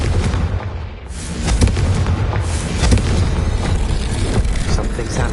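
A Confringo spell explodes in Hogwarts Legacy with loud, dense, crackling blasts that rumble on continuously, layered with booming bursts. A voice talks briefly underneath.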